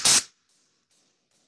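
A hammer strikes a steel helmet resting on a forming stake during spangenhelm construction, giving one loud, short metallic thud followed by faint ringing decay and silence.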